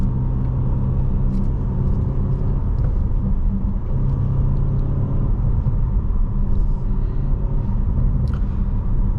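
A 2017 Audi RS7 with a 4.0T V8, heard from inside on a test drive: a steady low engine rumble and road noise throughout, with faint clicks and no talk.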